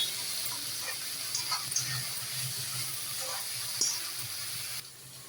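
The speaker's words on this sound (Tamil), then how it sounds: "கீரையை சேர்த்துட்டு கீரையை நல்லா வதக்குங்க" Drumstick leaves sauté in a pan for a poriyal, giving a steady close hiss and sizzle with occasional soft stirring scrapes that drops off near the end.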